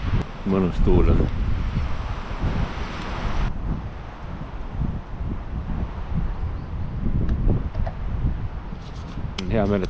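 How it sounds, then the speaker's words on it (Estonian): Wind gusts and buffets the microphone at a campfire site, a rough rumbling rush that rises and falls throughout, while a person talks over it at the start and end. "Mõnus tuul on."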